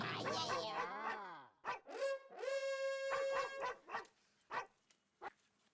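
A mobile phone ringtone imitating a dog barking and yelping in a bouncy musical pattern, loud and close, with a voice briefly heard near the end.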